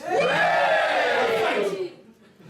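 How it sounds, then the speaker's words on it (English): A comedy club audience cheers and whoops loudly together in one sustained burst of crowd noise, which fades quickly after about two seconds. "Give me a cheer if you're not so happy with Brexit."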